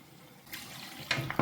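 A brief splash of water pouring into a pot of okra soup, a couple of short gushes close by, with no voices.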